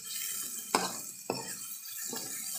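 Shrimp sambal with petai being stirred in a frying pan, with a few sharp scraping strokes over a steady close sizzle and no talking.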